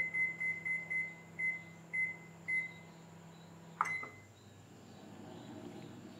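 A microwave oven beeps while its convection time is set for baking at 200 degrees: seven short, evenly spaced beeps, then a louder click and a final tone. A low hum runs underneath and continues after the beeps stop.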